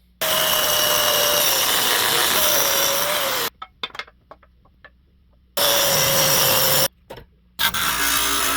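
A power tool cuts through old four-wheeler handlebar pipe for a mini bike rebuild with a loud, steady whining grind. It comes in three bursts separated by short pauses, with a few quiet clicks and handling noises in the gaps.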